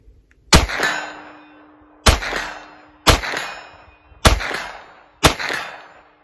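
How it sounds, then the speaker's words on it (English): Five Ruger PC Charger pistol shots ring out at a steady pace roughly a second apart, each a sharp loud crack followed by a bright metallic clang from CMP steel targets and a short decaying ring. "Let's shoot this like a regular pistol."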